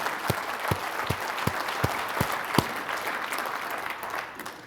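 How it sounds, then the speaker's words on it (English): An audience at an awards dinner applauds steadily, with a dense wash of many hands and a few sharper individual claps, fading slightly toward the end. "Let us give Bob a round of applause in absentia."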